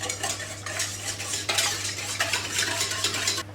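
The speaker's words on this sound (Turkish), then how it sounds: "Tekrar bir karıştırıyoruz." A spoon whisks a mixture of oil, whole egg and salt in a bowl for katmer poğaça dough, a close, brisk run of wet scraping and clinking strokes with no speech.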